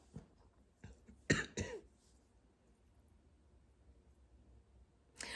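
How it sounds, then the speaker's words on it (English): A few harsh coughs and throat clearings close by, bunched in a quick burst early on, then quiet, with another cough starting at the end. "Hopefully I won't have a coughing fit today."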